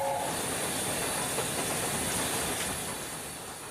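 A steam locomotive runs through a tunnel with a steady hiss and rushing rumble, faint rhythmic rail clatter underneath, the sound slowly fading away near the end.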